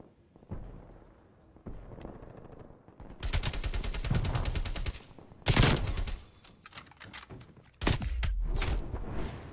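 AK-47 automatic fire in a first-person shooter, loud sustained bursts of rapid shots with gaps between them, a few short separate volleys near the end.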